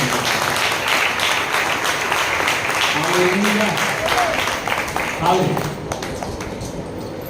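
Church congregation at a sermon clapping loudly, a dense burst of many hands with voices calling out over it, easing toward the end.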